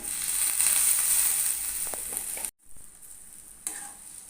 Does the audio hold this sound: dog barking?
no